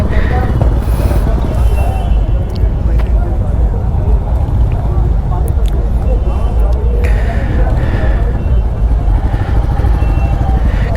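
Several Royal Enfield Continental GT motorcycles roll past together on a Delhi-NCR Sunday group ride, a steady dense engine rumble from multiple nearby bikes running throughout, with voices talking over it.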